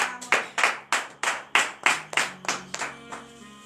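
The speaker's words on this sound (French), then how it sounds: "Frères et sœurs en Christ, donnez de vives acclamations à cette parole" Congregation clapping in unison during a Saturday morning prayer service in Comè, Benin, about ten sharp rhythmic claps at an even pace, fairly close, fading slightly toward the end with no voices.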